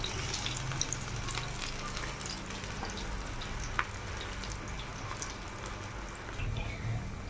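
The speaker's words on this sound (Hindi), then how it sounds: "अब बस मैं पकोड़े फ्राई करूँगी।" Pakoras fry in hot oil with a steady, soft sizzling and light crackling pops, close but fairly quiet, with no talk.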